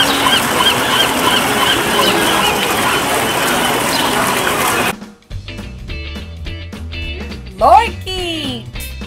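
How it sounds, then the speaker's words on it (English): Seagulls call loudly in a dense, overlapping chorus for several seconds. It then drops to a quieter stretch of sparser, sharper cries, with a voice briefly heard. "Seagull."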